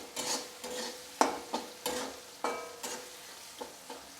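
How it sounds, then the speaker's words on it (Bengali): Chopped tomato sautés in a pan for a vegetarian potato curry, a quiet sizzle broken by repeated scraping strokes of a spatula at an irregular, unhurried rhythm. "টমেটোটা আমি 3 থেকে 4 মিনিট ভালোভাবে কষিয়ে নেব"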